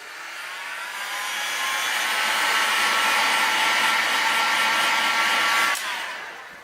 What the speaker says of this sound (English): I heat it up with my heater gun